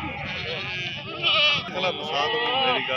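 Goats at a livestock market, a pair of Makhi Cheeni breeder bucks bleating in close, wavering cries that rise louder midway, heard under someone talking and market chatter.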